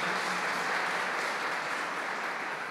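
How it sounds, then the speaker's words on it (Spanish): Church congregation at a Spanish-language service applauding, a continuous, even hiss of many hands clapping together, moderately loud and sustained throughout. "Vamos a dar un aplauso a la bendición de nuestro Señor."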